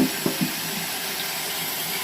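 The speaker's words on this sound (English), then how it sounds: "I just run the water in the sink because it kind of melts down the oil" Hot water runs steadily into a kitchen sink, a constant hissing rush that continues throughout with a couple of faint knocks near the start.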